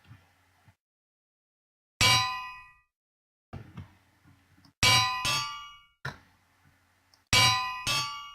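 Falling anvils in Minecraft land with bright metallic clangs, several sharp ringing impacts at uneven intervals, some in quick pairs, each decaying quickly, with quieter game noises in between and no talk.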